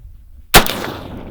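A single close, sharp shot from a Mosin Nagant bolt-action rifle in Battlefield 1 cracks loudly after near silence and trails off in a short echoing tail.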